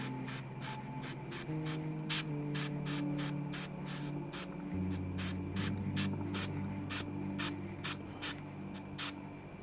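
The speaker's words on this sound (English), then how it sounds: "Good airbrush control here" Airbrush spraying paint onto an Idoneth Deepkin Leviadon miniature, a steady close hiss broken by rapid regular bursts of spray with a low hum beneath, no voices.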